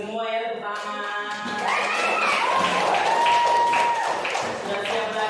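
Students in a classroom clap together after the roll call, a steady, dense patter of applause that swells midway and carries on to the end, with some voices mixed in.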